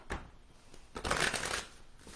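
A well-worn oracle card deck being shuffled by hand, two brief papery riffles close up, the second longer and fuller, with no talking.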